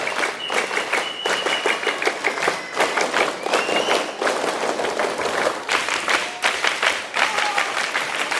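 Schoolchildren at a primary school scout ceremony perform the rhythmic scout clap, loud patterned bursts of many hands repeated in quick sets, with a few faint voices mixed in.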